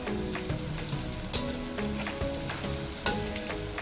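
Sausages fry in a pan with a dense, continuous close-up sizzle and crackle, broken by a few sharp spatters and stirring knocks.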